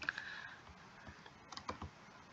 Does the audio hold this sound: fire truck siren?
no